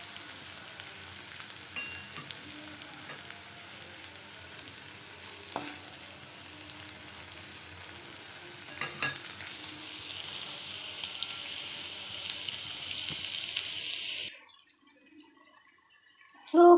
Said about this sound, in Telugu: ఒక 2 minutes ఫ్రై అవనిద్దాము